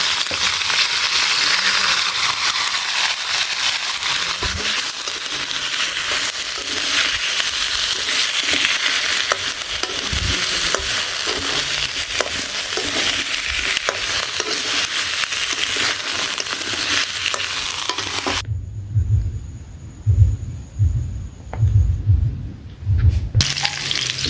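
Potatoes and taro frying in oil in a wok, with a loud, dense, continuous hiss of sizzling and rough stirring for most of the stretch before it cuts to quieter irregular thumps.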